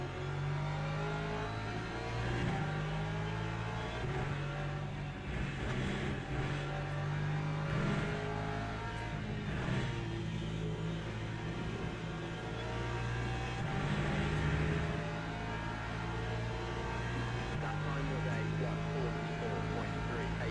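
A Porsche race car's engine roars continuously in the Le Mans Ultimate sim. The revs rise and fall in a sustained, loud note with distinct shift steps as the car accelerates along the track.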